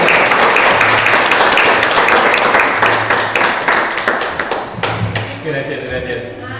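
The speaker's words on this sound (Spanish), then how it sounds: "Lo recibimos con un gran aplauso" An audience at a seminar on death studies applauds loudly, dense clapping that thins out toward the end, with a few louder individual claps standing out.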